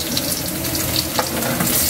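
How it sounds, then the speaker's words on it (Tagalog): Onions drop into hot oil in a pan while cooking pork estofado. A close, steady hiss and crackle of frying continues evenly throughout. "Lagay na natin yung sibuyas natin"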